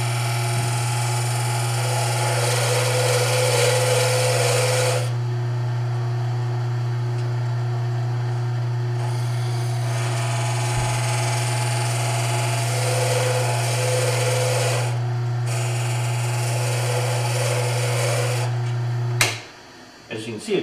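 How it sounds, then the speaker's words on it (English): A wood lathe hums steadily as a parting tool cuts into a wooden pen blank, the cutting adding bursts of bright scraping over the motor drone, with quiet gaps between passes. "it goes pretty quick with this parting tool"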